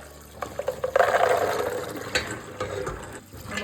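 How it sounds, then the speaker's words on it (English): Water rushes and splashes as soaked chickpeas are strained, a close, uneven pouring with bursts of liquid and a few clattering knocks, briefly surging and fading. "Well, let's strain the chickpeas."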